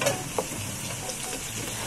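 A generous amount of garlic fries steadily in a hot pan for a Filipino laing dish, giving a continuous moderately loud crackling sizzle with a couple of brief sharper clinks near the start, no voices.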